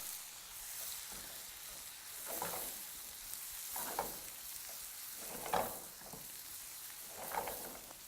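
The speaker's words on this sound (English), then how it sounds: "now we're going to add our small diced onions right into the pan." Small diced onions fry over very high heat in leftover bacon grease, a soft continuous sizzle that swells in waves as a utensil stirs them around the pan. It is faint and close, with no talking.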